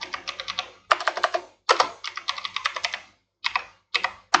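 An IP address is typed on a computer keyboard in quick bursts of crisp key clicks separated by short pauses, close and clear with no talking.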